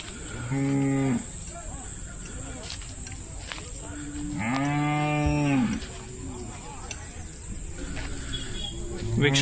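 A Hallikar cow at a livestock market lows several times, two long, strong moos standing out over a steady insect and crowd hum, with a softer call near the end.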